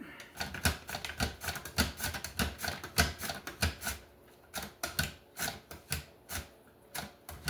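Potatoes are sliced on a kitchen slicer in rapid, rhythmic strokes, each pass a crisp scraping chop, repeating steadily at close range with brief pauses, fairly quiet and with no talk.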